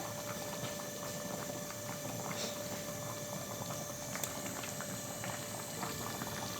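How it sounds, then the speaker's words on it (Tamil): Steady bubbling and gurgling of thick mutton gravy boiling in a pot, continuous and close, with small pops scattered throughout and no talking. "இப்போ பாருங்கள் நல்லா கலகலன்னு கொதிக்குது"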